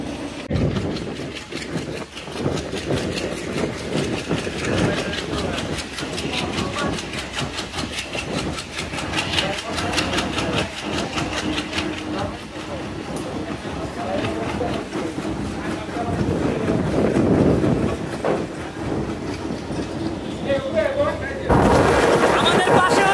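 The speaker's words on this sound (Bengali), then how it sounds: "আমাদের খুলনা অভিমুখী নকশিকাঁথা কমিউটার ট্রেনটি এখন গ্যান্ডারিয়া রেল স্টেশন ছেড়ে দিল।" A Khulna-bound Nakshikantha commuter train pulls out of Gandaria railway station, heard as a steady, close rumble and engine drone that swells louder toward the end, with voices talking over it.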